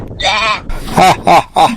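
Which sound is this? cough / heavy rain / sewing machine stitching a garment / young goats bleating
young goats bleating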